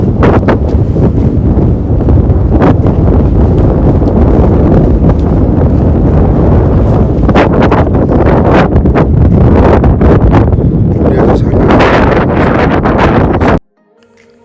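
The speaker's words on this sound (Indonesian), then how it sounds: "suara anginnya tuh dari camp kita terdengar seperti ini" Strong mountain wind at a camp on Mount Agung, Bali, roars continuously and loudly into the microphone with heavy buffeting gusts, then cuts off abruptly near the end.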